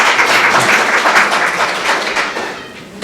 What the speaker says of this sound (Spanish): si vais a aplaudir a cada uno que salga